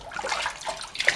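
Water splashing and running while a Yorkie Havanese dog is rinsed in a bath after digging for rats, a short, close burst of spattering liquid with no talk.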